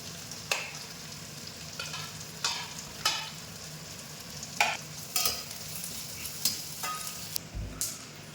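Spice paste with chili powder fries for a tomato and bean curry, a soft, quiet sizzle punctuated by about a dozen distinct scraping stirs of a spatula against the pan, spaced unevenly.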